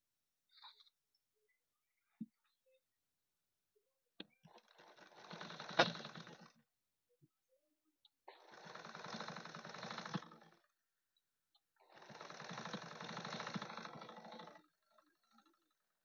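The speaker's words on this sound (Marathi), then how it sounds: "तर मी दोनही साईडनं अशी शिलाई करून घेत आहे." A sewing machine stitching along both sides of a piece of fabric runs in three long whirring bursts of a few seconds each, close and steady. Short clicks and pauses come between the runs.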